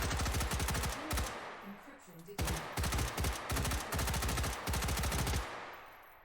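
Rapid automatic gunfire in a shooter video game, two long loud bursts of closely spaced shots with a brief pause between them, close and sharp, then cutting off.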